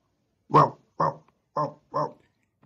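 A dog barks four times in a steady rhythm, short sharp woofs close by with brief pauses between them and no other sound.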